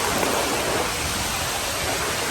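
Water rushes at a stream crossing on the Appalachian Trail, a steady, close, broadband roar that stays loud and unbroken with no voices.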